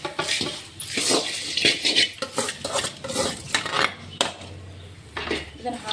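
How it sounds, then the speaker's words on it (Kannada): A metal spoon scrapes and clinks around a pan as a seasoned puffed rice mixture is stirred, giving close, irregular rustling strokes with a few sharp knocks and a little faint talk. "ಇದನ್ನು ಹಾಕ್ಕೊಂಡು ಒಂದು ಸತಿ ಚೆನ್ನಾಗಿ ಮಿಕ್ಸ್ ಮಾಡ್ಕೊಳ್ಳೋಣ ಫಸ್ಟ್"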